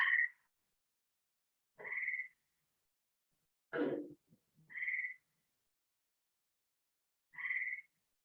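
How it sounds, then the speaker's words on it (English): Gray tree frogs give four short trilled calls, each a brief burst spaced a second or two apart, loud and close against a quiet night background, with one lower, rougher call in the middle. "in April, you'll hear these gray tree frogs,"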